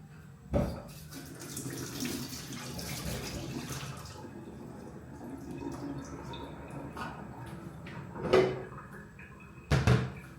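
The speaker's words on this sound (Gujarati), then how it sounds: "હાથ ધોઈ" Tap water runs into a home kitchen sink as hands are washed during dahi vada preparation, a soft continuous splash broken by a few louder knocks and clatters near the start and end.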